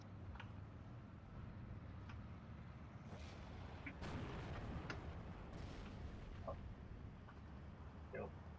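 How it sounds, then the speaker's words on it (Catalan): Artillery fire in the WWII strategy game Steel Division 2, with repeated booms and rumbling impacts over a continuous low battlefield din, fairly quiet overall. "Vaig a treure l'artilleria"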